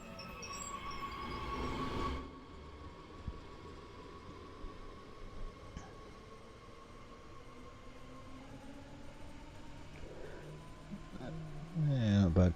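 A train runs on rails in Train Sim World 3 on the Rhein-Ruhr Osten German route, a continuous rumble with faint wheel squeal and occasional clicks over the rails, and a voice speaking near the end.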